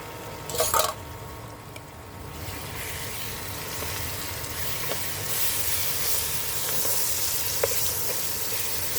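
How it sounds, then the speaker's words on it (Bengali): Marinated chicken poured into a hot pot for matar chicken pulao hisses and steams, a brief clatter at the start, then a broad sizzle that swells and holds steady nearby. "এখন বন্ধুরা এখানে দিয়ে দিব মেরিনেট করা মাংসটা, ঢেলে দিব এখানে"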